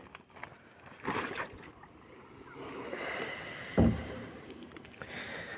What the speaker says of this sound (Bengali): আর এমনি করে নৌকা টানতে হয়।